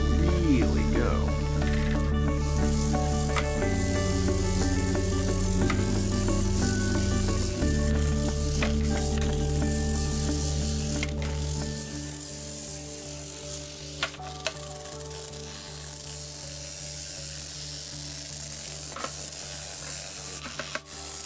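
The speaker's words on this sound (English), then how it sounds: "Okay, so you've got the battery hooked up, the motor's going, and then more or less just put it down." A bristlebot made from a toothbrush head with a small battery-powered vibrating motor, buzzing steadily with shifting tones as it skitters across a surface, then fading to a quieter rattle with a few clicks.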